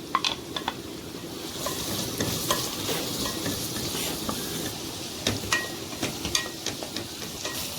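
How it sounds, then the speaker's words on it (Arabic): Onion sautéing in ghee in a home kitchen pan, a dense continuous sizzle punctuated by sharp clinks and scrapes of a spoon stirring against the metal. "معايا هنا سمنة هضيف عليها البصل، يتشوح كده تشويحة بسيطة"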